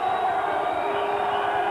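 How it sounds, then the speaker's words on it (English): A London stadium crowd at a rugby league match against Hull jeers in a steady, roaring mass to unsettle a kicker lining up a touchline conversion. "London crowd doing their best to put him off"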